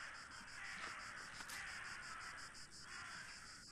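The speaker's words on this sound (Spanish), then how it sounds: "Oigo cuervos." Crows caw in The Last Door game, a rapid repeated series of harsh calls at a steady rhythm over a faint ambient background, fairly quiet and distant.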